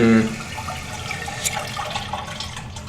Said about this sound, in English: You heard the little gushing again